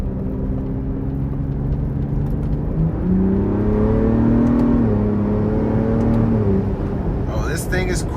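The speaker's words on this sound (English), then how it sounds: "The exhaust." A Ford Bronco Raptor's 3.0 twin-turbo V6 revs up steadily in sport exhaust mode while accelerating, its droning tone rising and holding, then easing off, loud and continuous throughout, with a few brief clicks near the end.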